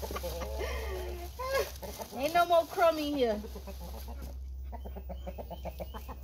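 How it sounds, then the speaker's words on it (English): Several chickens cluck softly up close while feeding, with a rooster among them, the calls coming in short bursts under someone talking. "The chicken's eating chicken."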